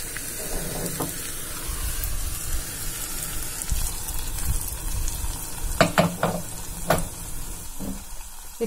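A roasted spice mix with curry leaves sizzles steadily as it goes into a simmering Kerala jackfruit-seed and raw mango curry, with a few clattering stirs near the end and no talking.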